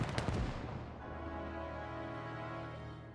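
Gunfire in the World War II game Call to Arms: Gates of Hell, Ostfront, with a sharp burst of shots at the start followed by a fading ringing tail, fairly quiet overall.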